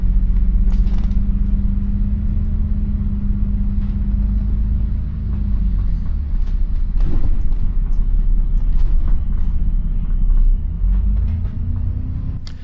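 A bus on Cornwall's Tin Coaster route reversing off its stand, a low steady engine rumble with a droning whine that dips and returns, plus faint mechanical clicks and knocks, heard close and without speech.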